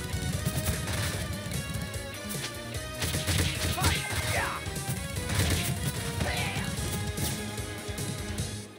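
Boxes are smashed again and again in the video game TMNT Shredder's Revenge, loud crashing hits over busy game music and effects, with a few bursts of sharper whacks.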